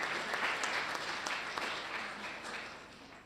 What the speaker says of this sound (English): Could we give Nina an applause?